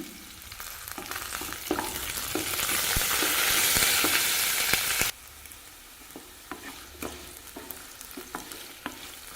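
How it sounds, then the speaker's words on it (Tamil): Curry leaves and gooseberries frying in a pan for chutney: a bright burst of crackling sizzle that builds for several seconds, then cuts to quieter frying with intermittent stirring clicks and scrapes, close up with no talk. "கொஞ்சமாக கருவேப்பிலை சேர்த்துக்கிறேங்க"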